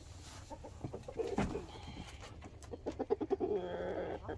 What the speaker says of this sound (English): Some spoiled chickies.